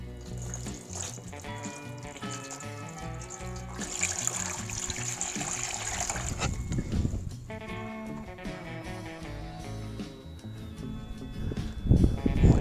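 Water trickles and splashes through a siliconed gutter fitted with gutter spikes during a leak test, an uneven running flow that swells midway and stays close and fairly loud.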